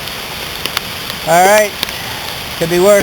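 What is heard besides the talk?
rain falling while kayaking on a creek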